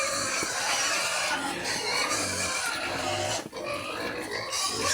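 A crowd of pigs squeals and grunts loudly and continuously at feeding time, a dense, close chorus of noisy livestock with no pause.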